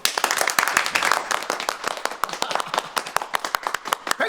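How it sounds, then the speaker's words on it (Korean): Scattered clapping from a small group in a Korean period drama hospital scene, crisp individual hand claps at irregular, quickening intervals, fairly close and distinct, with no talk over them. "자, 박수!"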